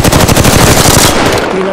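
Rapid automatic machine-gun fire from the shooter Apex Legends rattles loud and close in a tight, even burst, the shots stopping near the end as the sound trails off.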